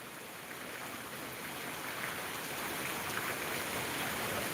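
Heavy, steady rain pours down over a village in Bathinda district, Punjab, a dense unbroken hiss of drops on surfaces that holds at an even level throughout with no voices.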